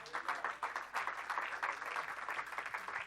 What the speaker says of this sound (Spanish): Denle un aplauso, aleluya al Señor